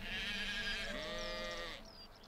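Sheep bleating in the farming game Medieval Dynasty, one long wavering, nasal bleat close by with a fainter second call at the end, no talking.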